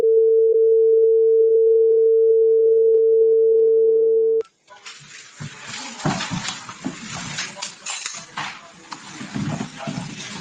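A steady telephone tone drones for about four seconds while calling parents, then cuts off abruptly into a noisy, crackly open line with rustling and faint background sounds.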